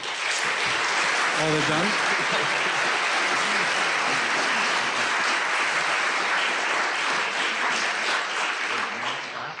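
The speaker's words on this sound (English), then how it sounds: "give them both a round of applause" A debate audience applauding the two debaters at a discussion on whether God exists: loud, dense clapping that continues throughout, with a voice speaking briefly over it near the start.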